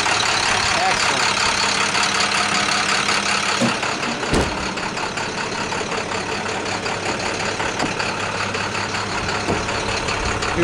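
A car engine runs steadily under the hood, a loud continuous idle that holds even throughout, with one brief sharp click partway through.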